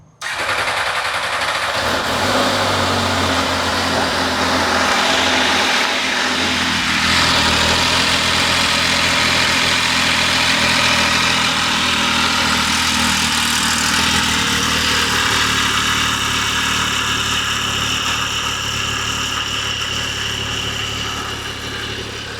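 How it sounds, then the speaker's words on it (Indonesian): An MV Agusta Dragster RC Reparto Corse three-cylinder motorcycle engine starts and settles into a steady, smooth idle, humming and ticking evenly up close for a long stretch. "Seperti apa suara dari Dragster RC Reparto Corse. 3 silinder ya"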